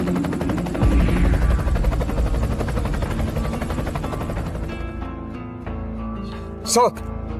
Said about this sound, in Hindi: और तभी तेज आवाज के साथ हेलीकॉप्टर वहां पहुंचा।